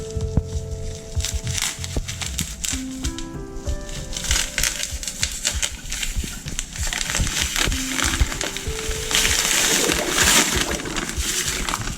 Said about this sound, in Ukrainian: І будемо помішувати, поки сіль вся не розтане у водичці.